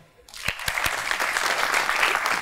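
A studio audience bursts into applause on a talk show set, a dense, steady wash of clapping that builds quickly and carries on loudly after a few sharp opening claps.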